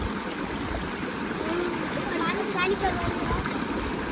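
A forest river stream flows steadily nearby with splashing and trickling water, while a person talks over it.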